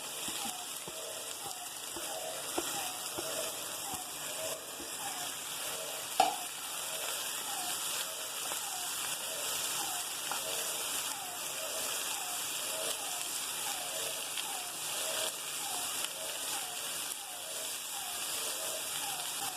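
Cabbage, beans and carrot sauté in a pan for paneer fried rice, giving a steady broadband sizzle with soft scraping stirs at intervals and one brief clink, continuous and moderately close with no talk.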